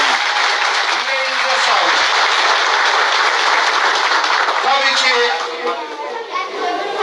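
Applause from the crowd at a village association opening in Bayırköy, Pütürge, Malatya, steady clapping mixed with children's voices and chatter, tapering slightly near the end.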